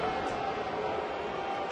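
Crowd noise at a Phillies at Pirates baseball game, a steady broad roar of fans directed at pitcher Moyer, dense and continuous with no gaps through the short stretch.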